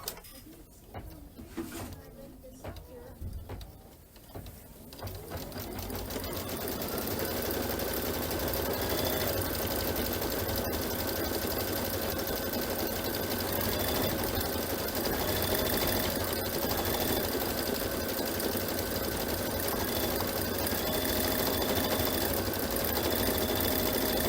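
Embroidery machine stitching out a Kimberbell Hello Spring pillow design: after a few seconds of quieter handling noise it spins up into a steady, close, rhythmic mechanical hum with rapid needle strikes that continues unbroken.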